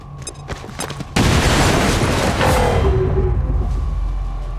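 Explosive detonating in XCOM 2 War of the Chosen, a sudden loud blast after a few short clicks, followed by a long rumbling roar that slowly fades.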